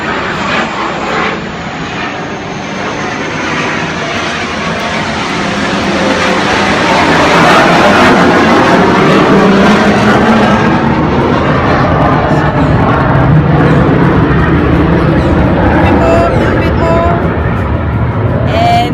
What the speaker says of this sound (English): The planes flying to Paya Lebar, it's part of the field here.